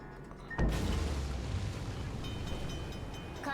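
A torpedo strikes the bow of a ship in World of Warships, a sudden heavy boom that starts about half a second in, then a long rumbling roar and wash of water that carries on to the end.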